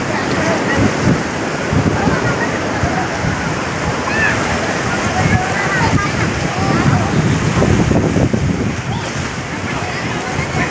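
Waves splashing and surging along a waterfront, a loud continuous wash of water with wind buffeting the microphone, while people talk and call out over it.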